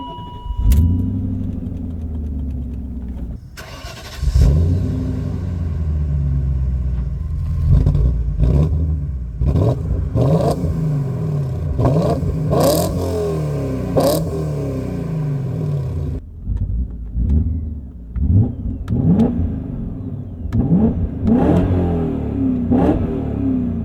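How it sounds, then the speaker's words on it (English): BMW E39 M5 Touring wagon with a V8 engine driving on a public road, the engine rumbling and revving repeatedly through gear changes, loud and close with surging acceleration bursts and no speech. "let's go ahead and take the M5 Touring out on the road and see how it drives."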